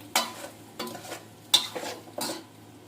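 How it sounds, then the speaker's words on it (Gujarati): Muthiya made from bottle gourd and fenugreek being stirred in a pan with a tempering of chilli, cumin, sesame and asafoetida; four distinct scraping stirs with soft sizzling between them, close and alone. "હવે હલાવી નાખશું"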